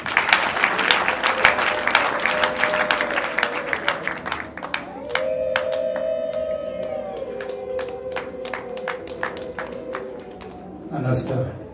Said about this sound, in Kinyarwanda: nagira ngo twongere amashyi